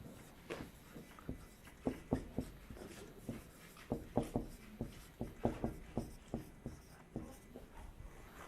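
Chalk or a marker taps and scratches across a board in uneven bursts, writing out a sentence close by in a quiet room.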